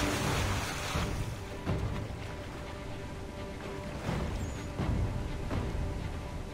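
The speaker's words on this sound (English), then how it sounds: "There's a waterfall!" A waterfall rushes in Assassin's Creed 3, a loud, steady broadband roar of churning water with several heavier surges and crashes. No one speaks over it.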